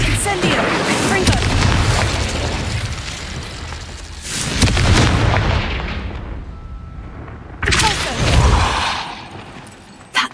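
Incendio fire spell blasts in Hogwarts Legacy, three booming, rushing fiery bursts spaced a few seconds apart, each swelling then fading into a rumbling tail, loud and close.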